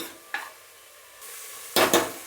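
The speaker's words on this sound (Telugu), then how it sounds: "ఇది మనకి అల్లం వెల్లుల్లి పేస్ట్ ఏదైతే ఉంది ఇది పచ్చి వాసన పోయేదాకా బాగా ఫ్రై చేసుకోవాలి" Ginger garlic paste frying in a pan, a steady soft sizzle with a brief stir scrape early on and two louder bursts of sizzling and stirring near the end.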